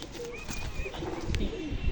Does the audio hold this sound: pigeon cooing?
yes